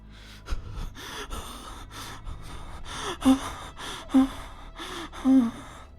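Heavy, labored breathing with sharp gasping inhales, repeated in an uneven rhythm, close to the listener with no talking.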